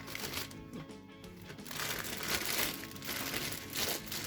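A plastic zip-lock bag holding oranges and lemons crinkles and rustles close by in irregular bursts, soft crackling handling noises that swell and fade over a few seconds.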